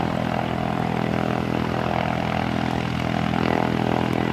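A propeller airplane at Aurora Municipal Airport drones steadily and loudly throughout, a constant engine and propeller hum with no talk over it.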